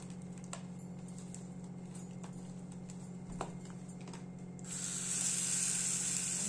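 Roti frying in oil on a hot pan for ginger chutney rotti, a steady sizzle with scattered crackles, rising brighter and louder as the flatbread goes into the oil near the end.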